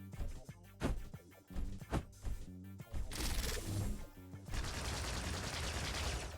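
Rapid plasma and rocket fire in the arena shooter Diabotical: a burst of sharp, close shots at first, then a dense, continuous hiss-like barrage of plasma bolts, loud and without talk.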